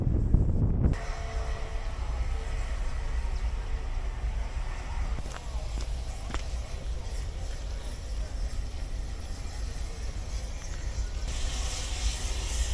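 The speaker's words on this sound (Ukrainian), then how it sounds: "Це такий вінтажний паровозик, який везе туристів до національного парку." A vintage steam tourist train near Ushuaia, Argentina, rumbles steadily along the tracks with a constant low roar and rattle, a couple of faint clanks, and wind noise throughout.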